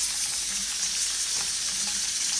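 Steady, dense sizzling of flour-coated chicken frying in hot oil, loud and close, a continuous crackling hiss throughout with no talking.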